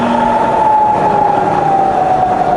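A fully rebuilt Bridgeport milling machine spindle runs at 300 RPM in low gear, a loud steady mechanical hum with a sustained whine holding constant throughout, close and with no talk.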